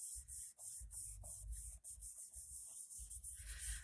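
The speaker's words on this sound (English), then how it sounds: "I burnish with my hands first because I don't want the glue to just shoot out the sides." Hands rub and burnish glued paper flat on a craft tag, giving faint, close, repeated dry rubbing strokes in an uneven back-and-forth rhythm.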